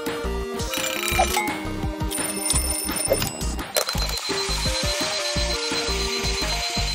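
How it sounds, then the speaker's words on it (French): A wheeled toy-car alarm clock rings loudly and continuously, a dense rattling bell that keeps going for the whole stretch with slight dips, no talking over it. "Bon, voyons voir s'il est mieux que tous les autres réveils matins."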